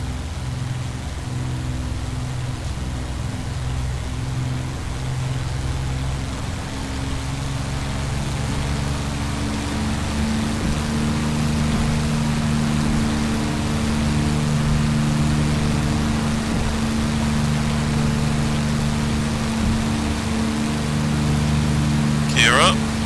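In a flight simulator, a P-51D Mustang's piston engine drones loud and steady through the takeoff roll, its low harmonic hum rising slightly in pitch partway through, with no talk.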